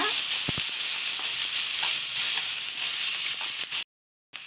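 Tomato and green chillies sautéing in a pan for a mixed-vegetable chutney, giving a steady, even sizzling hiss with a few faint knocks before the sound briefly cuts out near the end.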